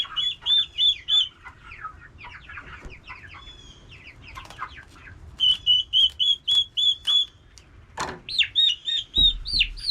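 Turkeys, including toms, and chickens chatter fairly close, with rapid high-pitched chirping calls in repeated bursts and softer clucking underneath.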